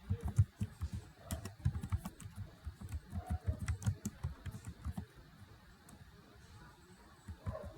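Rapid, uneven clicking of a computer keyboard being typed on at close range, with bursts of keystrokes that thin out toward the end, during a circuit-simulation software demo.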